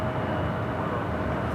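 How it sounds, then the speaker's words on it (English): A Qatar Executive Gulfstream G650ER business jet at LAX makes a steady, loud broadband roar with a faint tonal whine, continuous throughout with no breaks. "that was Qatar Executive Gulfstream G650ER heading to San Jose, California"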